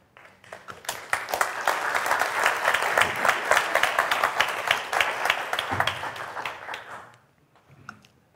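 An audience claps after a DevOps conference talk in Spain, the applause building quickly, holding steady and fairly close for several seconds, then fading out, with a few brief sounds after.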